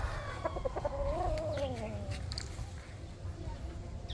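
Chickens, including a Rhode Island, cluck and murmur nearby, one drawn-out rising call standing out over a low, steady background rumble.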